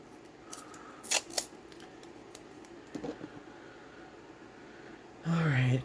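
Scissors snip through bookbinding tape at a craft table, a few quick sharp cuts clustered together with a further snip later, followed by a brief rustle of handled tape.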